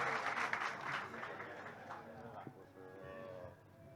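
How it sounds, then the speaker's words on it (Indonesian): A crowd breaks into applause for an arriving guest, the clapping loud at first and then thinning out as scattered voices and talking take over. "Sekali lagi tepuk tangan yang meriah buat"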